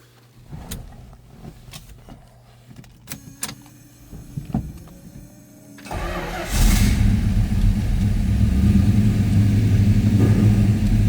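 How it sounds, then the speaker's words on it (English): A 1971 Dodge Charger's 383 Magnum V8 cold starts: it cranks with clicks and a whir, catches, and settles into a loud, steady idle rumble close by. "That was a cold start."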